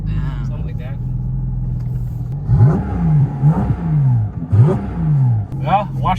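A Porsche GT4 RS engine revs under partial throttle, rising and falling in several loud, close sweeps over a steady idle rumble while people talk.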